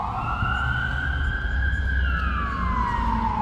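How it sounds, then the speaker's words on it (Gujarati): An ambulance's wailing siren sweeps past, its pitch dropping as it moves away, over steady traffic rumble. "એમ્બ્યુલન્સ જાય એટલે ધડાધડ બધું ઊભું રહી જાય"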